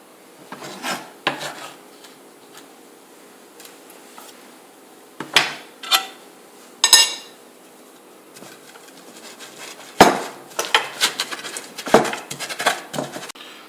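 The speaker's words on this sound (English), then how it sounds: "The green chilies again will be crushed the same way which I'm doing." Green chilies are crushed by hand on a hard surface, with scraping and grinding in irregular rough strokes and occasional sharp knocks, close up, no talking.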